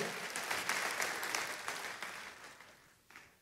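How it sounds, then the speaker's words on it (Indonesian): A church congregation applauds after a sermon, a fairly faint, dense wash of clapping that gradually thins out and fades. "Tepuk tangan yang meriah."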